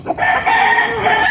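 A gamefowl rooster crowing loudly and close at a game farm, one sustained strident crow filling the moment.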